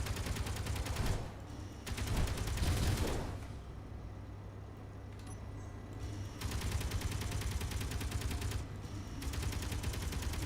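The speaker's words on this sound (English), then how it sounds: "Holy shit, I like this machine gun." Rapid automatic machine gun fire in a video game, loud bursts of dense repeating shots separated by brief pauses, with game sounds between bursts.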